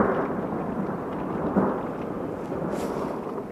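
Violent electrical thunderstorm in Carpentras, with a deep, continuous rolling rumble of thunder that swells slightly partway through and slowly fades, heard loud with no voices.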